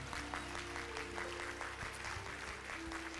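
A church congregation claps together at a Bayamón fasting and prayer gathering, a steady, even wash of applause that carries through the whole stretch with a faint hum underneath.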